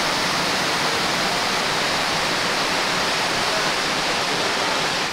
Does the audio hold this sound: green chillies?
no